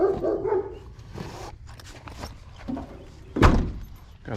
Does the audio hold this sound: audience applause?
no